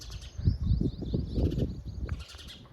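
Wild finch chicks chirp in a nest, thin high tweets repeating in short bursts over a low rustling rumble, close and fairly loud.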